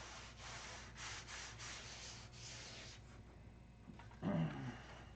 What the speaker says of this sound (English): This is gonna be several hours of sanding on this one.